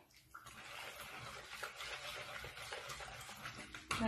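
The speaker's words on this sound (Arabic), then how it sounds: "خلطوهم كاع باه يتخلط اللاردو مع البصل مع لاصوص" Onions and lardons stirred through a sauce in a pan, giving a continuous soft wet sizzling and squelching texture at low volume, ending in a brief louder clink.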